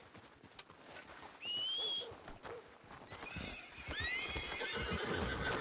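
A horse ridden in the Red Dead video game whinnies loudly, with steady clip-clop hoofbeats running underneath and a second, higher neigh near the end.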